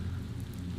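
Heavy rain falls during a night storm, a soft, steady hiss and patter without breaks.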